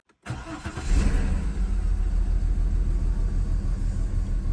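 An old Audi A6 C5 engine catches after a short start and settles into a loud, steady, close-up rumbling idle.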